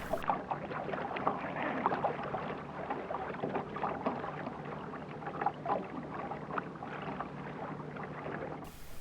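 A Streaker sailing dinghy races on open water with the tide, heard as steady splashing and rushing water against the hull mixed with wind noise, close and continuous.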